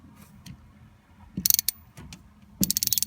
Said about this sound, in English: the spark plug socket 5/8 to pull these guys out